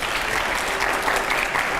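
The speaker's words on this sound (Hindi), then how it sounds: "जोरदार तालियां प्लीज" A studio audience at a Hindi political talk show breaks into loud, sustained applause, a thick, even roar of many hands clapping with no pause.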